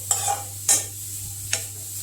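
Carrots for carrot kheer being stirred in a pan, with a few distinct scraping strokes of the spoon over a faint steady sizzle, close up and with no talking.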